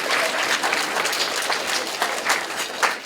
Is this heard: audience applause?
yes